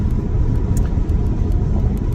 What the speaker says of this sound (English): I apologize for the road noise.